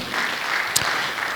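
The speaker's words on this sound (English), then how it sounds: "give yourselves a good clap in Jesus' name." Congregation at a church seminar clapping, a short burst of steady, fairly close applause from many hands with one sharper clap standing out midway.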